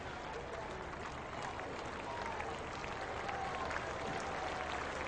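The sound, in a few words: applause from the cricket ground crowd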